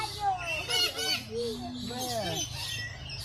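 Birds including parrots calling at a Cebu safari park, with several bright whistles and chirps over steady crowd murmur, some squawks rising above the noise.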